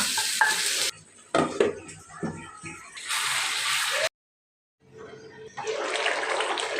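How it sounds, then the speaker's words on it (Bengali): Dried fish and eggplant stir-fried in a pan, bursts of loud sizzling and stirring broken by a sudden silent gap before the frying hiss resumes, with no talk. "বেগুন দিয়ে ভালোভাবে কষিয়ে নিব।"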